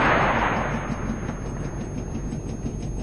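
A TOW missile fired from a Bradley fighting vehicle in ARMA 2 bursts out with a loud launch blast, then fades into a long, steady rushing roar that holds for several seconds with no voices over it.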